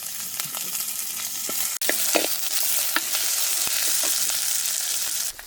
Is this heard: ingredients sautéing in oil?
yes